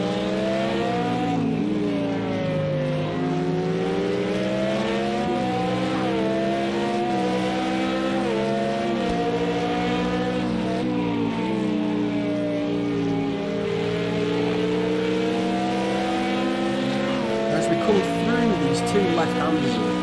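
GT1 race cars in the Project Cars 2 racing game at Spa, engines howling and shifting through gears in close wheel-to-wheel racing, loud and continuous under steady commentary.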